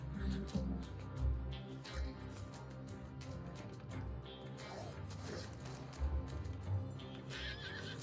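Horse in Red Dead Redemption 2 neighing and whinnying repeatedly, with clip-clopping hooves and scuffles, loud and agitated throughout with game sounds in the background.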